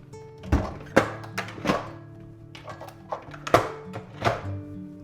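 Pressure canner lids being closed and swiveled into place, a series of heavy metallic thunks and clanks spaced irregularly, close by and fairly distinct.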